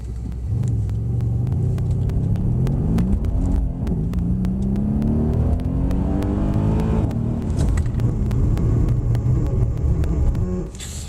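A Mercedes-AMG C63S accelerating hard on a race track: a loud, throaty engine climbs steadily in pitch through the gears, with rumbling, crackling exhaust that stays close throughout.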